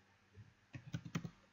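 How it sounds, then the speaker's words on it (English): An email address is tapped out on a computer keyboard in a quick burst of about six close, crisp keystrokes, coming after a single isolated tap, with a quiet room around them. "So I can type here my email."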